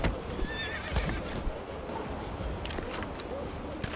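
Horses in the medieval village game Manor Lords whinny and clip-clop, a high neigh rising early over steady hoofbeats on the ground amid busy ambient village noise.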